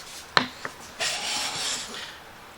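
A hand plane with a radiused blade takes a thin wood shaving: a sharp click, then a brief soft hissing swipe lasting about a second, close and quiet, with no talk.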